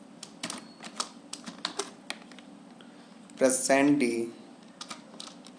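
Rapid, uneven keystrokes on a computer keyboard while C program code is typed, close and clear, with a short burst of speech partway through.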